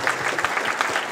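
Brief burst of audience applause at an e-health awards ceremony, dense, steady clapping for award winners.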